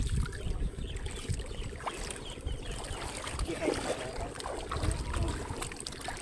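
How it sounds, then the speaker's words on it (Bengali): Solar and battery powered electric motor boat running on water in a village, a steady low drone with water trickling and splashing throughout, no clear speech. "মোটর দিয়া ব্যাটারি দিয়া ওপরে সোলার দিছে, সৌর বিদ্যুৎ দিয়ে চলতে আছে।"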